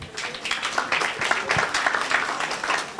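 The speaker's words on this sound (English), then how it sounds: "if they have said anything to your heart, another loud applause" An audience at a national integrity awards ceremony claps together, a moderate, dense wash of applause that keeps going steadily throughout.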